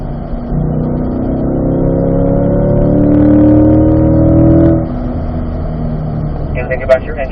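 A C8 Corvette engine rises steadily in pitch and loudness as the car accelerates out of a corner on a racetrack, then drops back to a lower drone. A voice may be heard faintly.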